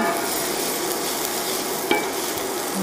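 Onions and red peppers fry in a pan with a steady, close sizzle throughout, broken by a couple of brief utensil clinks.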